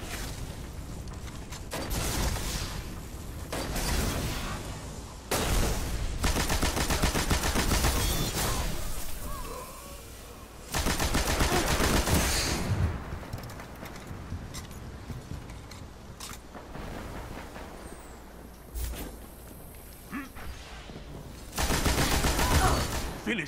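Auto rifle gunfire in the video game Destiny, with sustained rapid automatic bursts separated by short pauses, loud and close, mixed with other game effects.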